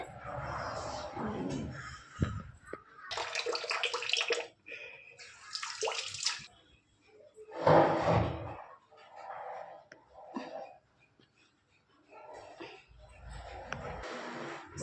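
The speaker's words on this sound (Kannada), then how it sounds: "ಫೇಸ್ ವಾಶ್ ಮಾಡ್ಕೋತೀನಿ ಒಂದಸರಿ" Someone washing their face with tap water at a basin: uneven bursts of splashing and rinsing, stopping and starting in short bouts, with quiet pauses and faint breathing between them.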